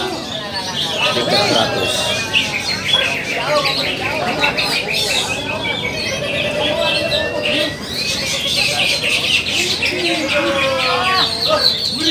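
Dense, continuous chirping and warbling from cucak hijau (green leafbirds) competing at a bird-singing contest, layered with other birds and crowd noise, while an announcer speaks over it.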